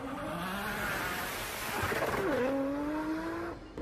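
A Nissan Skyline GT-R, the twin-turbo all-wheel-drive Japanese sports car, drives with its engine note climbing, dipping and climbing again through gear changes, loud and close with a short tire squeal near the end.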